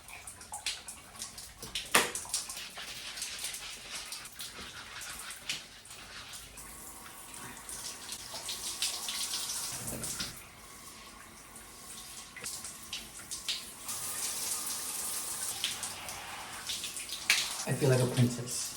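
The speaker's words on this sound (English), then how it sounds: "I love showering in the morning." A morning shower runs steadily with a broad hiss of falling water and occasional splashes, continuous throughout at a moderate level.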